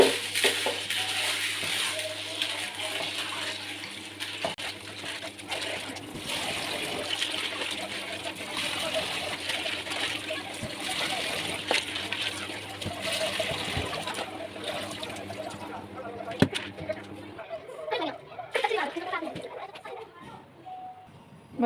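Water runs and splashes steadily while packaged lentils (dal) are washed and left to soak in a kitchen, a continuous close trickle and rinse that thins out near the end.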